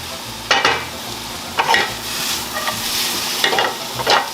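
Shallots frying and browning in a cast iron skillet, a steady close sizzle broken by a few sharp stirring scrapes spaced about a second apart, with no talking.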